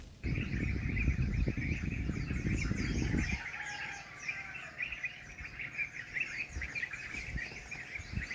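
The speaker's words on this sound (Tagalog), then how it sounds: "Narinig niyo ba yung mga ibon?" Many birds chirp and call at dawn in rural Sorsogon, a steady layered chorus of high tweets running throughout, with a low rumbling noise under the first few seconds that then drops away.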